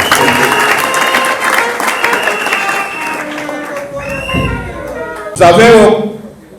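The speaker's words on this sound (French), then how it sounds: "Applaudissons pour la société" An audience at a youth wing installation ceremony applauds, sustained clapping mixed with crowd voices and music, ending in a brief louder burst.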